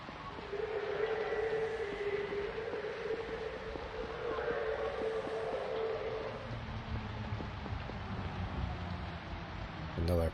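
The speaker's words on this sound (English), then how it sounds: "Another perfectly timed train." A train passes in the video game Lacuna, with a sustained rumbling drone and a rising-and-fading tone over about ten seconds, moderately quiet and steady.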